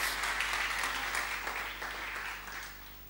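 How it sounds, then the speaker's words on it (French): A church congregation at a prayer meeting claps and cheers, steady moderate applause and raised voices that slowly fade toward the end, heard from a little distance with a low hum beneath. "Donnez une acclamation à Dieu"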